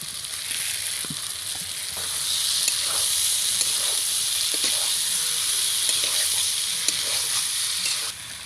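Whole garlic and fried potato go into browned chicken pieces in a hot pan, the sizzle surging into a louder hiss with scattered stirring clicks before settling.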